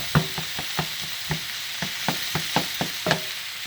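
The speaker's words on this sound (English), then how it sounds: "We're still on medium-high because I'm going to brown the meat." Lean 90-10 ground meat browning in a pan over medium-high heat, a soft steady sizzle broken by regular scraping stir strokes roughly every quarter second, close and without speech.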